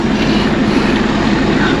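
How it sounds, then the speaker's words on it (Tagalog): A drone hovers overhead during an offroad outing, giving a steady, continuous buzzing whine with a low rumble underneath, sustained and fairly loud throughout with no pauses. "Itong isa nagpapalipad na naman ang drone."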